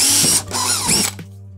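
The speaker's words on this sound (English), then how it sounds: "So you only need to drill a hole that size." Cordless power drill boring a hole through the wall of a plastic drink cooler, a steady close whirring grind with a brief ratcheting catch near the end before the motor stops.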